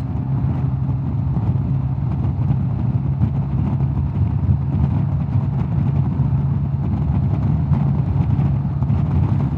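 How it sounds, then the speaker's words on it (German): A Vegas GTS 300 scooter on 13-inch wheels runs at full throttle in a top-speed test, its engine a steady, loud drone with low rumble and wind noise throughout, no talk. "Jetzt lasse ich mal ein bisschen Platz, gebe mal Vollgas."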